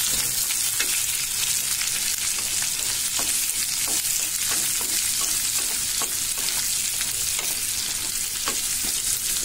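Onions and dal sauté in a hot pan, a dense, even sizzle with occasional soft stirring clicks, close and continuous with no talking.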